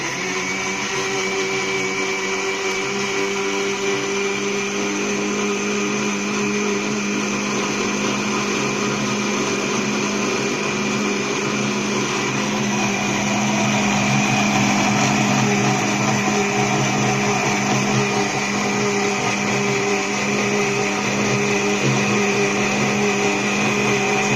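An electric blender grinds watermelon for juice in a steady, loud motor whine with a strong harmonic hum that holds for the full length, growing slightly fuller partway through.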